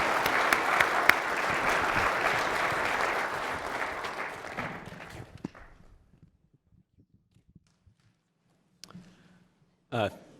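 An audience at a U.S. Treasury Market conference applauds a panel, a dense burst of clapping that fades out over a few seconds into near silence, followed by a couple of faint knocks.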